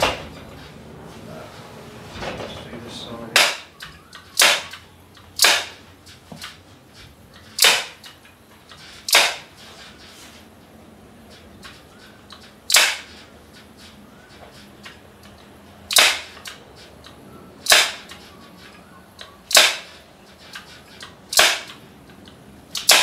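A staple gun tacking boat cushion fabric down onto plywood with steel staples: a steady series of sharp, loud, close snaps spaced a second or two apart, with no talking.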